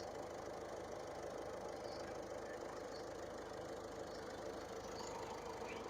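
A 2015 Ford EcoSport Titanium engine idling, giving a faint, even mechanical hum with a light ticking texture that holds steady throughout.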